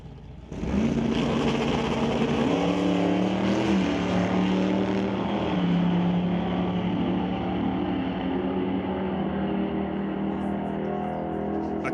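Drag racing cars, a Stone Cold Racing Dart and a wheel-standing Barracuda, roar at the strip in a loud sustained engine blare whose pitch climbs and shifts, heard from a moderate distance.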